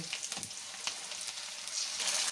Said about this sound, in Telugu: మూడు స్పూన్లు ఆయిల్ వేసుకొని కొంచెం వేడి అయ్యాక జీలకర్ర ఎర్రగడ్డలు ఎర్రగడ్డల పేస్ట్